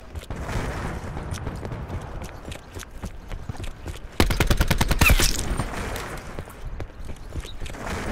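Gunfire in Call of Duty: Black Ops 4, hardcore mode on the Slums map, with scattered shots giving way midway to a loud, rapid burst of automatic fire, then sporadic shots again.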